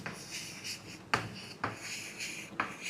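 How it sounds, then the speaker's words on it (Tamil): A sentence is written out by hand, giving quiet, close scratching strokes with a few sharper taps at regular intervals. There is no talking. "நான் ஒரு சென்டென்ஸ் எழுதுகிறேன் பாருங்கள்"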